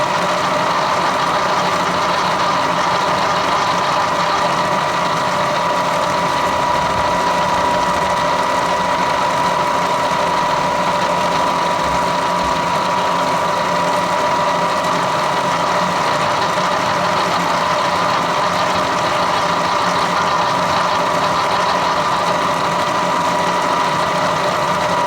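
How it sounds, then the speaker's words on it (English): A milling machine cutter machines an ARP stud on a Pontiac 500 rocker shaft setup, giving a steady, loud mechanical whir and grind that runs continuously and alone throughout. "Cutter went right through that ARP stud."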